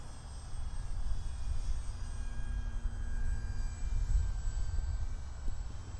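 An Arrows Bigfoot RC plane flies with its electric motor at a little over half throttle, a steady whining drone with a thin high tone that holds the whole time, fairly faint against wind noise.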